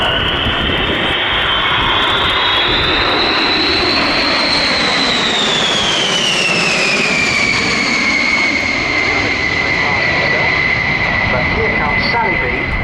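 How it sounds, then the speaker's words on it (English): A Boeing B-52 bomber roars past at an air show, its loud jet whine sweeping upward and then falling as it passes. A broad rumble runs underneath the whole pass. "here's the B-52 coming through"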